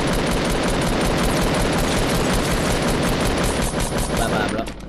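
Dense, loud Fortnite gunfire rattles without pause in rapid automatic bursts from a close fight, tapering off only at the very end.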